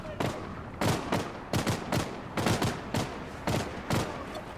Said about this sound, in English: the spire is shooting at somebody